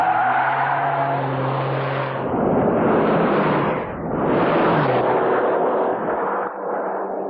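A 1995 Porsche 911 Turbo launches hard from a standstill, its engine roaring loud and close, climbing through gears with brief dips at each shift and a raspy, broadband howl throughout with no talking.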